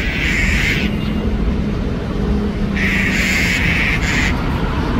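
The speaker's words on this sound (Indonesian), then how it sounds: "Tuh, burung-burung bunyi itu." Birds call loudly in bursts, a harsh repeated squawking that starts and stops twice over a constant outdoor rumble, in Hong Kong.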